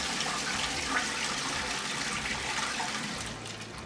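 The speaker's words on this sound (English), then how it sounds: "Then I'll empty out the toilet cistern." A toilet cistern empties as it flushes, a steady close rush of water that thins slightly toward the end, with no voices.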